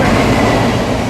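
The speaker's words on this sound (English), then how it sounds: "Oh no, it's a freight train, 60." A freight train rolls past a level crossing on the East Coast Main Line near Morpeth, a loud close rumble of wagons with rattling wheels filling the whole short stretch.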